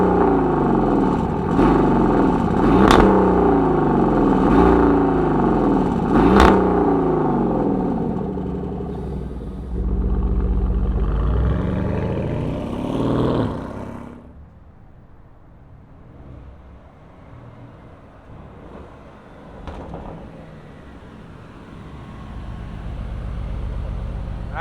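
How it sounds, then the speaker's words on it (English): 2024 Porsche Cayenne Turbo e-Hybrid twin-turbo V8 of over 700 horsepower starting up and revving, several loud sweeping rev blips followed by a drop to a quieter, settled idle rumble. "let's fire up this Cayenne and hear what it sounds like"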